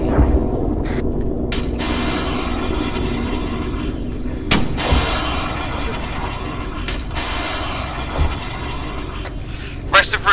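Heavy rocket and gunfire rumble through a chaotic milsim battle around an office building and courtyard, with sharp loud bursts standing out over continuous booming fire while voices shout over it.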